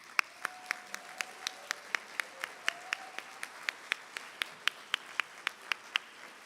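Applause at a National Honor Society induction ceremony comes through as crisp, evenly spaced claps, about four per second. They sound close and distinct above a quiet room, with no talking.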